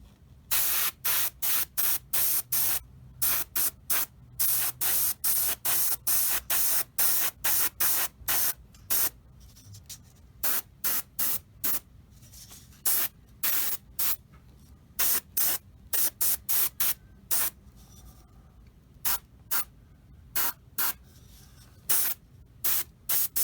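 An airbrush sprays paint onto a Tamiya 1/35 Sdkfz 250/3 Greif model kit in repeated short hissing bursts, close and loud, with brief pauses between passes.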